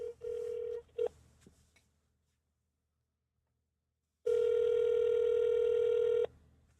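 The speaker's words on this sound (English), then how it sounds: "so we give Mr. Jones a call, and this is what transpired" A telephone call goes out with a short dialing tone burst and beeps, a pause of silence, then one long steady ringback tone sounding clearly and alone.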